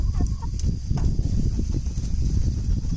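Hens cluck softly amid a constant low rustle and shuffle, a few brief higher calls rising over the steady farmyard background.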